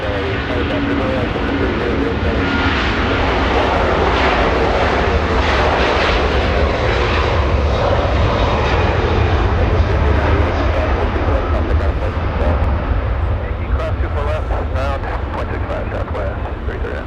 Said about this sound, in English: It's Hawaiian flying off into some very Hawaiian looking colors in the west.